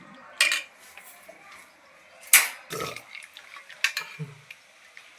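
Boiled jackfruit pieces are moved from the pot into a dish, with a series of sharp metallic clinks and scrapes of utensils against pots, some louder than others, and a faint voice at moments.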